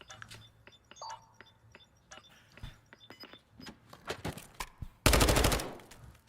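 Gunfire in a Call of Duty esports match, heard as scattered sharp shots and clinks building in density, then a loud burst of rapid automatic fire near the end.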